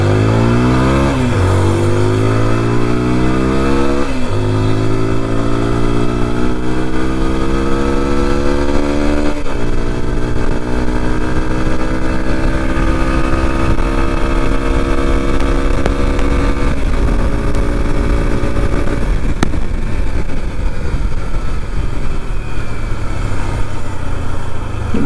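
A TVS Apache RTR 160 4V motorcycle accelerates hard through several gears, its engine pitch climbing and dropping at each shift, loud and close throughout with continuous road and wind roar.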